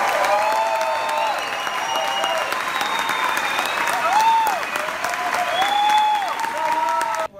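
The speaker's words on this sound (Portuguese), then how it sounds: "E gostaria muito de pedir uma salva de palmas para Soraya Ravene, que está estreando." Theatre audience applause at a play's restaging, dense and sustained, with faint voices calling out over the clapping before it cuts off abruptly at the end.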